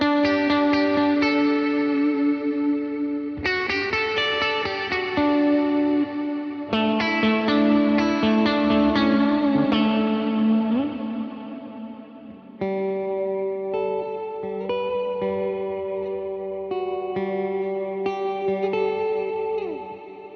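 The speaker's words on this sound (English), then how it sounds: "This is like full on long ambient type reverb" Electric guitar chords ring out with a long, washy ambient reverb, each strum trailing off slowly into a lingering tail.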